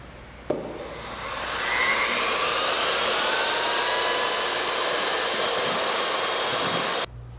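Panel mix patching compound being blended with a power mixer: a loud, close, steady whirring drone that starts abruptly, rises slightly, holds evenly for several seconds and then cuts off, with no talk.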